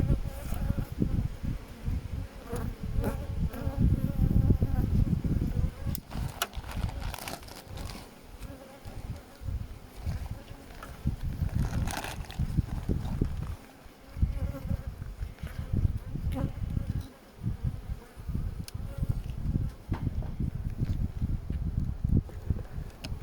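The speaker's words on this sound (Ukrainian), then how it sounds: "дощ, а бджола допрацьовує" A dense, continuous buzz of many honeybees working close by in rain and cold, with occasional rustling and crinkling noises mixed in.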